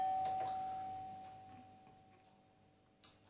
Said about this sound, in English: Ignore the doorbell, please.